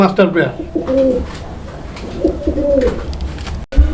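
Indian Kagzi pigeons coo in soft, rolling, repeated calls close by, with someone talking over them throughout.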